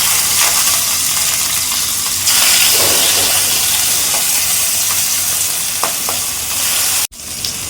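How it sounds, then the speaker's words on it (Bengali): Hilsa fish frying lightly in hot oil in a wok gives a steady, loud sizzle and hiss that swells around a quarter of the way through, with a few faint pops. It then cuts off abruptly near the end, with no talk over it. "মাছটা আমি খুব বেশি ভাজবো না, লাল করে হালকা করে একটু ভেজে নেব"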